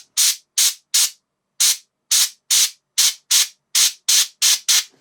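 Airbrush spraying paint onto a miniature in eleven short, evenly spaced bursts of bright hiss, each cut cleanly to silence, loud and close with no voice.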